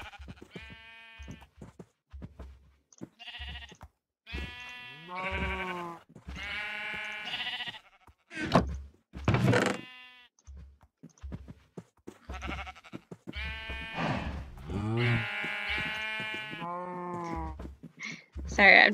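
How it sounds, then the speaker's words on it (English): Sheep bleat repeatedly in Minecraft, a flock calling in overlapping wavering cries through most of the stretch, with someone talking in between. "you can hear all the sheep out there"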